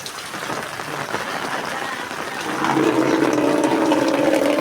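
Steady rain patters down at a stadium in Patdi, growing heavier and denser partway through, with faint voices murmuring underneath.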